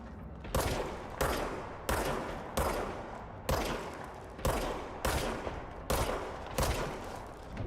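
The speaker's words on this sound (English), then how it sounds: "Are they shooting now?" Gunfire in the video game Control comes in about nine evenly spaced loud bursts of rapid shots, each with a sharp attack and a short echoing tail, close and dominant with no talking.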